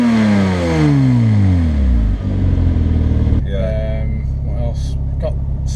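Porsche 987 Boxster S with a modified exhaust revs loudly nearby, the pitch sweeping up and settling into a rough idle, then short sharp blips follow.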